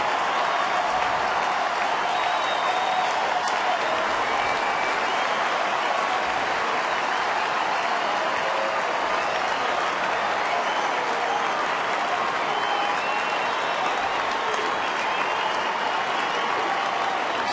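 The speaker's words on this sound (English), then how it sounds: "And now here comes the crowd." A big baseball stadium crowd, Minnesota at Detroit, cheers and applauds in a sustained roar of clapping and voices that holds steady throughout, while a broadcaster talks over it.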